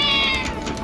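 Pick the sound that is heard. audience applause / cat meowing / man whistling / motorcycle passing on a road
cat meowing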